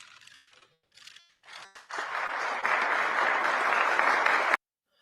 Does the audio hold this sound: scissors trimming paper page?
no